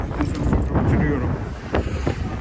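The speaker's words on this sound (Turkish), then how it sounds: "Rüzgar çok zaten, ekso sesleri falan fazla gelmiyor." Strong wind buffets the microphone of a rider on an MH Drift 150 motorcycle, a loud, rumbling roar that swells and dips throughout and nearly buries any other sound.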